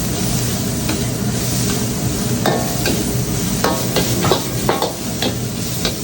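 Peppers, onions and garlic sizzle in a hot pan for Guyanese fried rice, a steady frying hiss broken by repeated clinks and scrapes of stirring, close and fairly loud with no talk.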